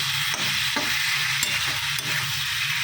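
Ground spices including cumin powder frying in a pan for an egg curry, with a steady sizzle broken by repeated scraping stirs about every half second, close and continuous.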